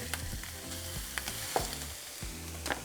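Two pounds of ground beef frying in a pan with green pepper, a steady broadband sizzle with a few sharp pops and scrape-like spikes, close and fairly faint, no voices.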